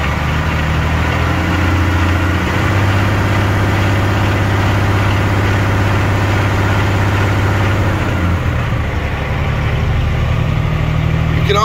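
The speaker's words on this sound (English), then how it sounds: "I'm gonna let you hear this engine." A 2006 Sterling heavy spec flatbed truck with a 10-speed and 311,000 miles idles with a loud, steady low diesel drone close by; its pitch shifts as the revs drop near the end.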